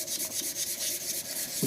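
Sandpaper rubs a turning wooden shaving brush handle on a lathe, moving up through the grits, giving a continuous close abrasive hiss that swells and fades in a regular pulsing rhythm.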